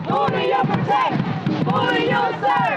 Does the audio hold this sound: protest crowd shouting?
yes